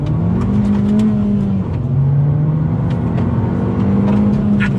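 The engine of a 2019 Abarth 595 Esseesse drones loudly from inside the car while driving, rising and falling with the revs and dipping briefly at a gear change.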